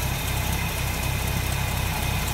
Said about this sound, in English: Smooth running engine.